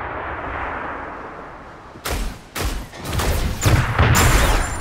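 Booming gunshots in the mech battle game Super Mecha Champions, several loud, punchy blasts spaced irregularly over a rumbling background.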